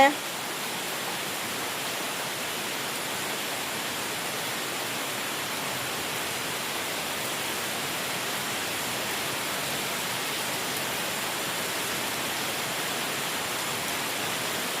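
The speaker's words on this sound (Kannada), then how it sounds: "ನೋಡ್ರಿ ಎಷ್ಟು ಜೋರು ಮಳೆ ಬರ್ತಾ ಇದೆ" Heavy rain pours down in Bangalore, a dense, unbroken hiss that holds steady from start to finish at moderate loudness, with no distinct drops or voices standing out.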